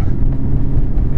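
Modified Porsche 991 Turbo S with a GMG valved exhaust, a loud, close low engine rumble with crackling pops and bangs burbling through it.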